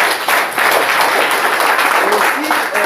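A church congregation applauds the Lord, with loud, dense, steady clapping filling the room while voices carry faintly underneath.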